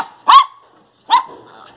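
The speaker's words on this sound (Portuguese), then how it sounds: "Você é cachorro." A miniature pinscher gives two short, sharp barks close by, separated by a brief pause.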